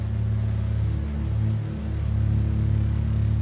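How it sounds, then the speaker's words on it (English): A Cessna 337 Skymaster's tractor and pusher engines drone in Flight Simulator X, a steady low-pitched throbbing hum with a slight beat, continuous and unbroken, without talk. "the combined tractor and pusher engines produce what's called centerline thrust, as well as a unique sound"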